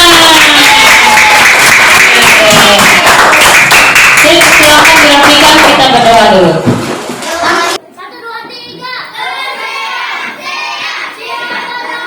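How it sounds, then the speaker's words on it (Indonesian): Schoolchildren in an Indonesian classroom clap together at the end of a lesson, loud group applause mixed with excited kids' voices, then cutting to quieter chatter and talk in the room. "tepuk tangan untuk kita semua"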